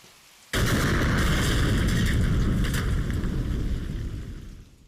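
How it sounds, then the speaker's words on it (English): A large explosion in the video game Xenosaga Episode II bursts in abruptly after a brief quiet moment, a loud broadband roar that holds steady and rumbles on for several seconds before slowly tapering off. "You're not supposed to look at the explosion."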